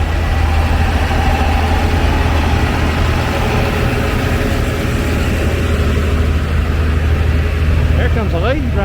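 An antique tractor engine idles loudly at a Tennessee antique tractor show and parade, a steady low chugging rumble dominating the scene, with a voice talking over it.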